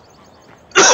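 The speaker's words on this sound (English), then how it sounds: "Excuse me, damn cough." A single loud cough bursts out right at the end, after near-silence with faint game sounds from a Farm Simulator 17 session.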